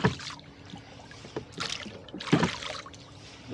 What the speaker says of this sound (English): right now we're rowing across the mouth of